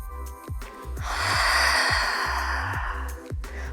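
One long, audible exhale during a Pilates exercise, a close breathy rush swelling and fading over a steady rhythmic music beat.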